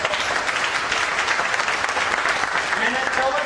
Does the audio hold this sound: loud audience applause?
yes